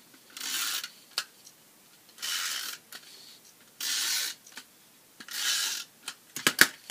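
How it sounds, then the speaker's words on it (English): A snail adhesive tape runner is pulled across card stock in four separate strokes, each a brief scratchy rasp with short clicks and small taps between them, close up with no talking. "I'm going to adhere this with snail adhesive."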